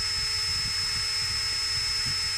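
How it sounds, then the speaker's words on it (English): A small power drill runs steadily as it bores out the post of a Matchbox Series No 66 Ford Transit die-cast model, a continuous whining hum held close and loud throughout with no speech. "So as we drill out the post, take off the flange and then tap the post."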